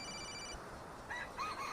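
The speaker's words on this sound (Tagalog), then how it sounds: "Kakamadali na iwan yung cellphone. Saan ba yung nagre-ring na yon?" A cellphone left behind rings with a faint, high electronic melody. The short repeating tones sit quietly over a low background hum.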